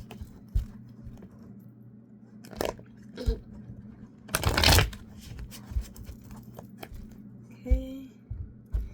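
Tarot cards being shuffled in short riffling bursts, with one louder, longer riffle in the middle and quiet handling noises between, close by.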